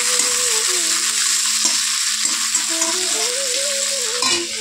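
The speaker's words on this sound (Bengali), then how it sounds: "কিশমিশটা আমি ভেজে নিচ্ছি ভালো করে" Raisins frying in a pan for fried rice give a steady, close sizzle that continues throughout, with a faint tonal sound running over it.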